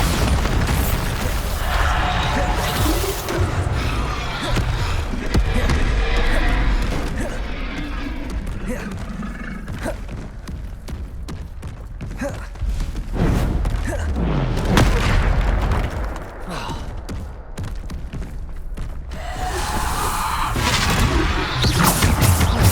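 Bombarda spell blasts in Hogwarts Legacy hit with repeated booming explosions and crashes amid dense game combat noise, loud and close, recurring throughout with a voice calling out spells between them.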